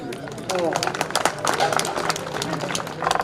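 Applause and clapping from the gathered audience at a Mangawa family get-together, a steady patter of many hands rising around half a second in and continuing under crowd murmur and a voice.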